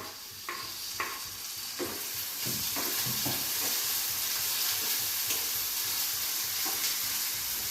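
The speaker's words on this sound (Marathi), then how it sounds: "भाजलेला आहे अर्धा आता टमाट टाकू त्याच्यात" Tomatoes go into a hot pan while cooking a pigeon pea vegetable dish, and a loud, steady sizzle and hiss builds, with a few soft clunks of stirring early on.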